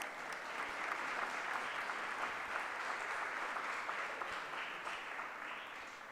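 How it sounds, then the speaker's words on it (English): Steady applause from a conference audience at a school opening ceremony, a dense, even wash of clapping that fills the space from start to finish without voices on top. "Please give her a round of applause."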